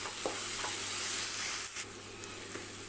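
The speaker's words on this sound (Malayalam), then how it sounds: "ഇതിലേക്ക് കുറച്ച് കറിവേപ്പില ചേർത്ത് കൊടുക്കാം." Curry leaves sizzle in hot oil in a pan for a potato masala gravy, making a steady close hiss with a few faint stirring scrapes and no voices.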